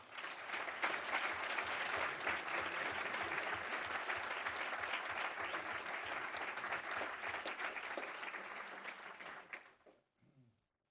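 Audience at a school board meeting breaks into sustained applause honoring teachers, a full, even wash of clapping that tapers off near the end, leaving a few faint sounds.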